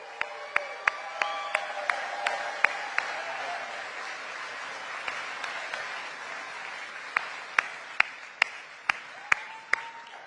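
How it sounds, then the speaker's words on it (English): Rally crowd in Henderson, Nevada applauding steadily at a vice-presidential campaign event, a broad, even wash of clapping with a few sharp isolated claps standing out nearby. "Let's give them a round of applause for everything they do and all of those who help us."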